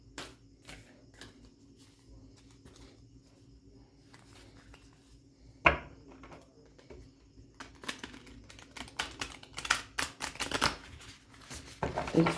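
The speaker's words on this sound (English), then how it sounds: "let's get 5 cards from the Akashic Tarot" Akashic Tarot cards are handled and shuffled, with quiet taps early and then a run of rapid riffling flutters that grows louder toward the end, while a person talks softly at times.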